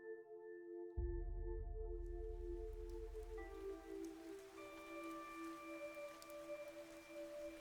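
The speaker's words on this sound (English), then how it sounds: "It was raining." Steady rain from the video game Fantasian Neo Dimension, a soft continuous patter that starts up and keeps going beneath sustained musical tones, faint and even throughout.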